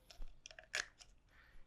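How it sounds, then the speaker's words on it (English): Kitchen shears crunch through a raw chicken's backbone in a few sharp, close cracks and snips, with one louder crunch in the middle, no talking. "Hearing those bones crunch."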